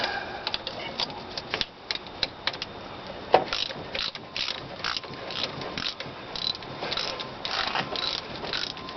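A ratchet wrench works spark plugs loose on a car engine, giving repeated bursts of close mechanical clicking and ratcheting with brief pauses. Faint workshop noise sits underneath.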